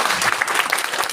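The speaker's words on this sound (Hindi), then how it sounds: "जोरदार तालियां।" A crowd at a Republic Day event claps for chief guest Vinod in a brief burst of dense, loud applause with scattered individual claps standing out.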